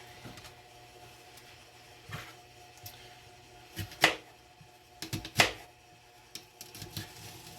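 Knife strokes through a sweet Vidalia onion on a board, a few sharp crisp cuts spaced irregularly, with light clicks and handling noise between them, close and moderately quiet.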